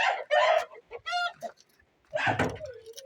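Close, loud clucking and squawking from several chickens in a coop in short bursts with brief pauses between.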